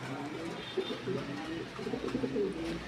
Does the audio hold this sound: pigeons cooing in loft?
yes